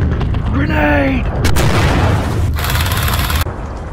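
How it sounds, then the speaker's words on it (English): Loud battle scene with a grenade explosion: a shouted voice, then a dense broadband blast and rumbling gunfire-like bursts filling the whole stretch, with loud noise throughout. "Grenade!"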